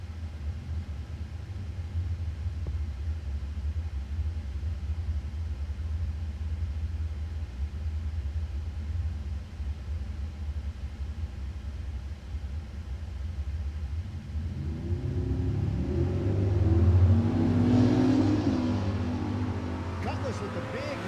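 Street cars at a drag strip rumble with a low, steady engine drone that swells into a louder roar near the end as they launch, under an announcer's talk.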